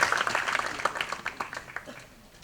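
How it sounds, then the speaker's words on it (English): Applause for a pitch team at an idea pitch event in an auditorium, a moderate crowd clapping with distinct claps audible, gradually thinning and fading out. "Let's have a round of applause for Team UniCare"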